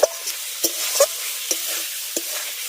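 Fried potatoes stirred into spice paste in a pan for a fish curry, with a spatula scraping and clacking in sparse, separate strokes over a soft sizzle.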